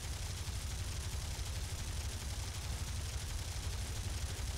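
Rapid gunfire in War Thunder aerial combat, a fast, continuous rattle of low thumps over a constant engine-like roar, faint and unbroken throughout.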